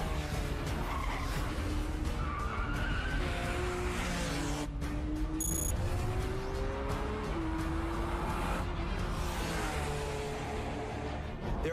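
A Porsche 911 with its rear-mounted engine accelerates hard, a loud continuous rising engine note with sweeping pitch changes and steady roar throughout, no speech over it.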